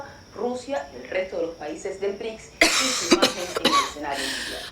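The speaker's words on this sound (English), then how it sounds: "This cough is unbearable." A voice speaks briefly, then a 65-year-old woman coughs several times in a harsh, close burst, with throat-clearing rasps in between.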